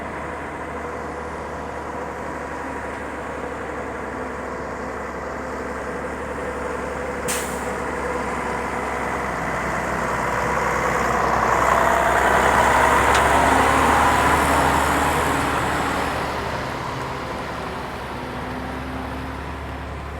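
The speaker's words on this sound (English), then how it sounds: "maybe these people traveling behind this fuel truck aren't having the most thrilling ride" A fuel truck on the Hai Van Pass mountain road near Danang, Vietnam, its diesel engine droning steadily and swelling louder as it passes nearby, with a brief air brake hiss.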